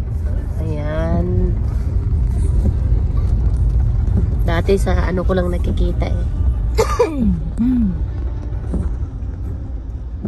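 Road traffic near the Champs-Élysées in Paris: a steady, loud rumble of passing cars and engines fills the background while people talk close by throughout.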